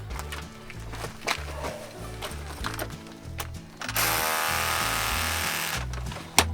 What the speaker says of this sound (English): So I'm going to try the hammer drill,